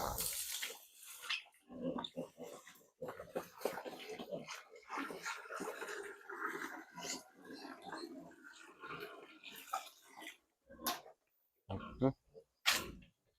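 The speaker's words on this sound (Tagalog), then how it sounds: "pakakain natin yung mga alaga natin baboy" Farm pigs at feeding time, grunting and snuffling close by in a busy, continuous stream with wet, sloshing noises, ending in a few sharper squeals.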